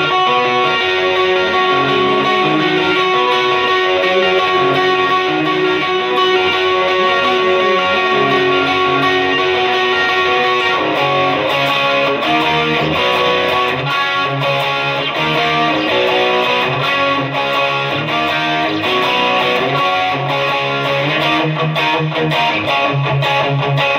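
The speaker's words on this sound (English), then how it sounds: "with the drive on, it sounds like this" Electric guitar played through the drive setting of a Valeton GP-100 multi-effects unit, a loud, continuous distorted tone with sustained chords and riffs throughout, no talking.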